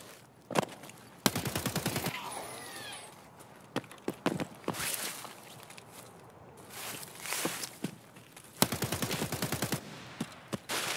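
Reshala's gun in Escape from Tarkov fires in rapid automatic bursts, each a string of sharp cracks. Several bursts are scattered across the stretch with shuffling footsteps and gear movement between them, close and loud.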